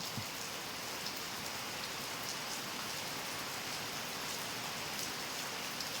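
Steady, even rainfall patters down continuously, a soft dense hiss with scattered drops and no voices.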